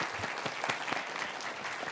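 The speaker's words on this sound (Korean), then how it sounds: "이지환 교수님도 박수로 환영해 주십시오." Steady applause from an audience welcoming a professor at an architecture safety scholarship ceremony, many hands clapping at an even level throughout.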